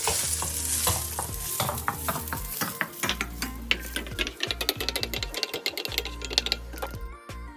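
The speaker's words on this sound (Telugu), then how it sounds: "వీటన్నిటిని మనం ఇప్పుడు ఫ్రై చేసుకోవాలి" Soaked dry fruits fry in a pan of hot fat for Ramzan sheer khurma, giving a busy, close sizzle broken by repeated scraping and stirring clicks, steady throughout before dropping off at the very end.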